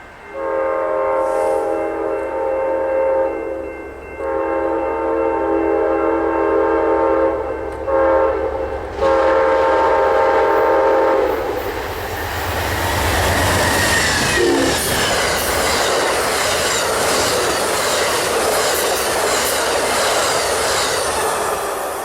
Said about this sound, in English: Amtrak Empire Builder Train 8 was speeding through control point Vermillion heading eastbound for Chicago